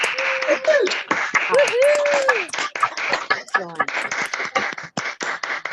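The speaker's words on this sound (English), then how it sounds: "Massive round of applause for Maisie." Scattered claps and cheers rise from the audience at an LGBT poetry open mic fundraiser, sparse and fairly close, with voices calling out and talking over the applause.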